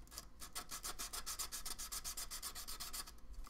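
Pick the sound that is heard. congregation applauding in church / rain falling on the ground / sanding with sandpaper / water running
sanding with sandpaper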